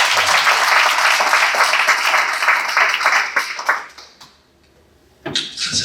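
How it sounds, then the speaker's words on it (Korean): A church congregation at a Korean worship service claps in a loud, dense burst of applause that fades out after a few seconds, followed by a short pause and a brief resurgence of noise. "우리 군에게 영광 박수 올려드리겠습니다."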